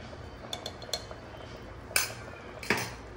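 Chicken cooked with coconut gets stirred in a pot, a few light metal spoon clinks and two sharper scrapes against the pot ringing out close by with quiet pauses between.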